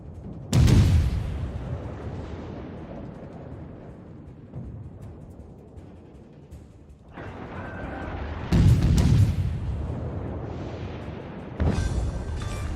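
Naval gunfire and explosions from a World of Warships battle involving the cruiser St. Louis: heavy booming salvos at the start and middle, a rumbling low roar between them, and a late burst of crackling blasts.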